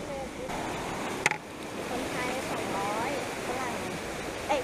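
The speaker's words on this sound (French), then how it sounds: "des petites cascades" Small waterfalls at Emerald Pool in Krabi, Thailand, make a steady, faint rush of splashing water, with a brief knock early on and a voice speaking softly over it.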